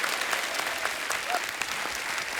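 A studio audience applauds actor Asrani on a comedy talk show, steady dense clapping that fills the whole moment at an even level.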